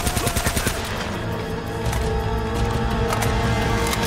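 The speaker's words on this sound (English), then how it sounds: "The World War II guns" Rapid World War II-era gunfire in Uncharted: Drake's Fortune, loud dense bursts of shots rattling continuously throughout with a busy layered game soundscape and no talk.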